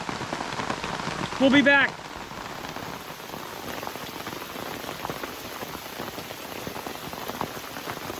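Steady rain falls on a rainy day at a campsite in Maine, a constant close hiss of drops hitting surfaces, with a brief burst of voices and clatter near the start before the rain carries on alone.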